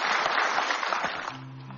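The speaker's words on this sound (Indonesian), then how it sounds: "kita berikan aplaus yang paling meriah untuk Mustafa Bisri dalam puisinya" Brief burst of audience applause for poet Mustafa Bisri at a television talk show, dense clapping from a crowd that fades after about a second as music begins underneath.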